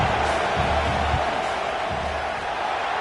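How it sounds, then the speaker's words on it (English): A stadium crowd in a college football video game roars during a field goal attempt, a steady loud broad wash of noise with low rumbling thumps. "This crowd trying to do its part to get inside the kicker's head."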